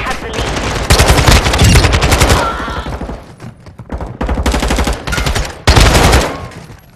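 A Kastov assault rifle fires in Call of Duty Modern Warfare 2 multiplayer gameplay, with several loud, close bursts of rapid automatic fire separated by short pauses.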